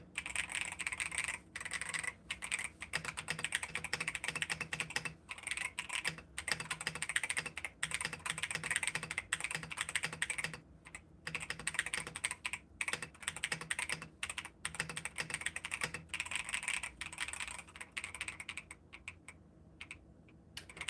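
Mechanical keyboard fitted with Akko switches and a cheap AliExpress keycap set, typed on steadily for about twenty seconds, a dense rapid patter of close clacky keystrokes with brief pauses and no voices.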